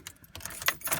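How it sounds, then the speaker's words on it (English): Car keys jangle and click as they go into the ignition of a 1996 Ford Windstar, a few quick metallic rattles, close and fairly quiet. "we will put the keys in the ignition"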